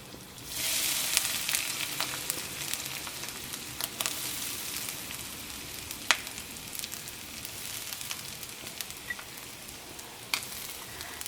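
Curry leaves and grated coconut fry in hot coconut oil for an onion theeyal, a steady close sizzle and crackle running throughout with a few sharper pops and stirring scrapes, no talking.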